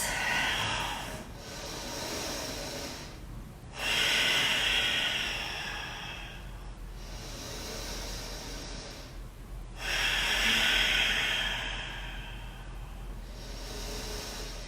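Slow, audible breaths during a yoga rest pose, a soft rhythm of long inhales and exhales repeating every few seconds, close and unhurried, with no talk over them.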